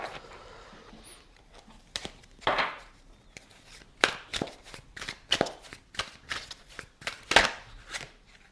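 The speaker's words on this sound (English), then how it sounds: "Let's scoop these cards up and see what she wants to give us with the cards." Tarot cards scooped off a table and shuffled, giving a string of sharp riffling slaps and soft papery sweeps, close and moderately loud, with brief pauses and no talking.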